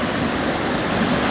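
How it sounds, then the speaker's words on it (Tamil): Heavy water pours down Karumandurai waterfall in full flow, a loud, steady, dense roar filling the whole clip with no voices over it. "பயங்கரமாக தண்ணி வந்துட்டுருக்கு."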